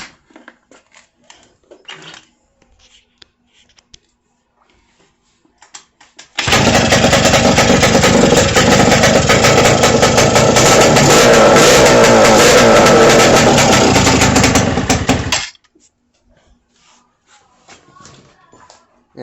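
A 90cc quad with a GY6-style engine swap runs loudly for about nine seconds of steady, rough engine noise, then cuts off, leaving quiet clicks and handling sounds before and after.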